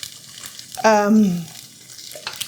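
Eggs fry in a Caraway nonstick ceramic pan, a close crackling sizzle, with a short voiced sound over it.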